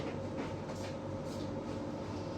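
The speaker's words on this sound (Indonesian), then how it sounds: "keretanya akan berangkat menuju ke kota Cirebon" The Gunung Jati passenger train sets off for Cirebon, heard from inside the front carriage as a steady, loud rumble of wheels and motor with faint rhythmic clatter, continuous throughout.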